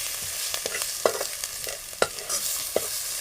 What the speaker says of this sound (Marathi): थोडासा आपल्या घरचा मसाला घालू आणि थोडासा कलरचा मसाला घालू अंदाजे लागला तर मग नंतर आपल्याला घालता येईल आणि परत परतून घेऊ